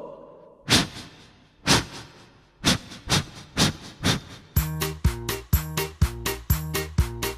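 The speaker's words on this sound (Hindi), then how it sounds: "रेलगाड़ी रेलगाड़ी झुक झुक झुक झुक झुक झुक झुक झुक" Steam train effect: loud, regular hissing chuffs that start spaced and then speed into a rapid, rhythmic chugging with a clanking beat, with no talk over it.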